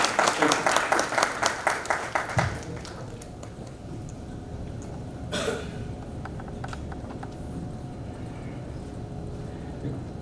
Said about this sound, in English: With this, can I have a round of applause